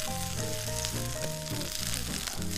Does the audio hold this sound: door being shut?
no